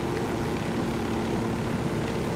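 A helicopter in Ghost Recon Wildlands, a steady droning rotor and engine hum holding evenly throughout without a break, fairly loud and close.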